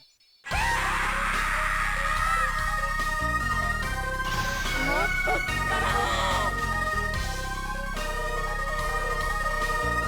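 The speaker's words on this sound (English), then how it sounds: "when you get to the second phase, he makes the most distressingly upsetting pain scream I've ever heard in my life" A boss in the Mega Man Zero 2 video game lets out a drawn-out, distorted synthetic pain scream over loud game music and effects, rising and wavering through the middle of the clip.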